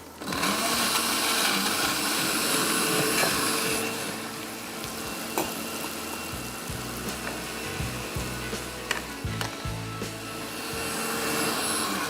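A blender churns tamarind chutney with a little salt and water, a loud close whirring grind with rattling, uneven bursts as the contents shift, running continuously.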